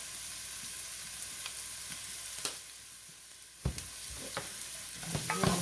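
Fresh squash with onion powder, garlic and parsley sizzles steadily in a frying pan, with scattered scraping stirs of a utensil against the pan, close and moderately loud, no talking.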